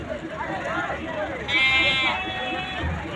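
A dairy goat at a livestock market gives one short nasal bleat midway, heard under steady close talk and crowd chatter.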